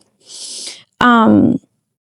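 A woman seven months pregnant catches her breath after bending over: a close, breathy inhale followed by a loud, voiced exhaling sigh, then silence.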